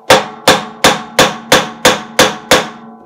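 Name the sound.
hammer striking a bolt to remove washing machine bearing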